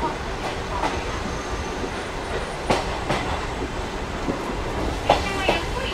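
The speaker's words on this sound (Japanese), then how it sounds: "列車がゆっくりになってきましたね。" Heard from aboard an Oigawa Railway SuHaFu 43 coach hauled by steam locomotive C11-190, wheels clack rhythmically over rail joints with a steady rolling rumble as the train slows.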